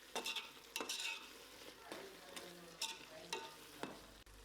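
Mint and coriander leaves sauté in oil paste for chicken dum biryani, with a soft sizzle under repeated scraping stirs of a spoon against the pan, close and fairly quiet.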